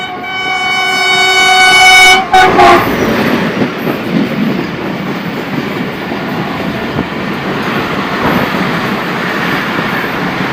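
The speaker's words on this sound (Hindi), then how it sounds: "हाउसिंग विक्टोरिया एक्सप्रेस गुजर रही है डाउन ट्रैक पर" An express train run by a private company passes on the down track outside Karachi. A loud horn blast comes first, then a steady, close roar of rolling wagons with faint rhythmic clatter.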